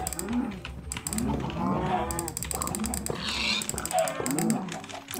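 Several cows moo in the Minecraft Hypixel video game, overlapping lowing calls repeating throughout alongside keyboard clicking and other game noises.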